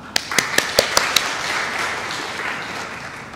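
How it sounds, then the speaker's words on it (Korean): Audience applause at an academic theology conference, opening with a few sharp distinct claps that swell into a sustained wash of clapping from a seated room. "우리 박수로서 모시겠습니다"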